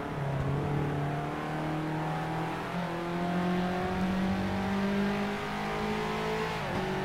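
A Renault Clio Cup race car in Assetto Corsa at the Ledenon circuit runs with a steady, droning engine note that rises and shifts through gears, loud and continuous with no voice over it.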